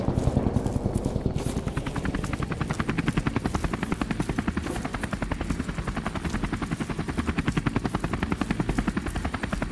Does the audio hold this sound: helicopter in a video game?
yes